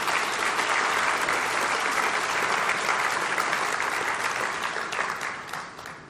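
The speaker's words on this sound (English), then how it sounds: "Let's give them a round of applause." A large audience applauds steadily after a speech by Singapore's Prime Minister on the tourism industry, a dense, loud clapping wash that holds for about six seconds before starting to thin.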